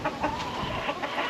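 Chickens cluck in an outdoor chicken pen on a rainy-season farm, their soft, scattered calls mixed into a dense, constant wash of background noise at moderate distance.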